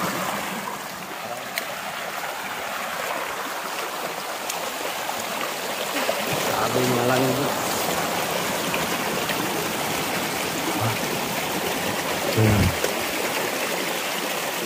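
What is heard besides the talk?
river stream flowing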